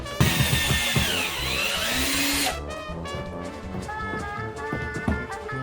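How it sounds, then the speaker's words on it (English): A power drill whines at high speed for a couple of seconds drilling into a ceiling, then cuts off, leaving clattering and handling noises. "I'm gonna assume this is a good spot to just drill it into my ceiling."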